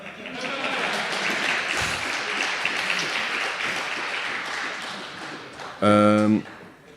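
An audience claps in steady applause for several seconds, with voices mixed in, before a short electronic tone sounds at the end.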